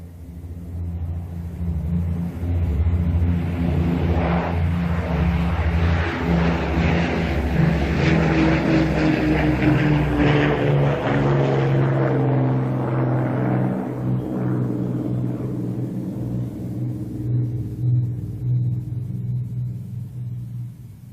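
Propeller airplane engine droning steadily and loudly, a sustained throbbing rumble that swells and then eases slightly, heard alone without voices.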